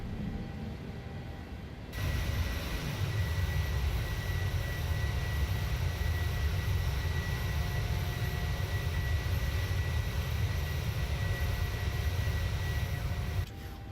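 A PMDG 737 jet rolls down the runway for takeoff in Microsoft Flight Simulator 2020, a loud steady engine roar with a deep rumble that surges up after a quieter opening and holds to the end.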